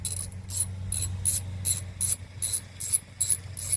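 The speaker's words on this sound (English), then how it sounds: "I've got a 5/8 spark plug socket. Alright, I'll remove the spark plug." A ratchet fitted with a 5/8 spark plug socket loosens the spark plug on a Yamaha WaveRunner, giving about nine evenly spaced, crisp ratcheting bursts up close over a low steady hum, with no talking.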